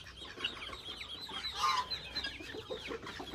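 Newly hatched Iranian partridge chicks cheep and peep in a rapid, busy cluster of high chirps, close and fairly loud, with no talk over them.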